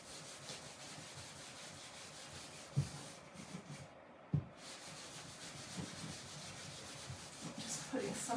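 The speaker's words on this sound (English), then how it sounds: "I'm using the Magnolia clear wax, and I'm just going to use just a little bit on this little funky old t-shirt." An old t-shirt rubs clear wax onto a painted wood piece, giving soft, continuous scrubbing strokes with a couple of brief knocks and a short pause midway.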